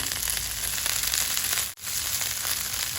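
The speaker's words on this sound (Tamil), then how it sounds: "இப்போ நம்ம இதை 2 நிமிஷம் வதக்கி எடுத்தால் போதுங்க" Onions sautéing in a pan with handfuls of mint and coriander leaves and green chillies for green chicken biryani, a steady dense sizzle and crackle throughout with one brief pause near the middle.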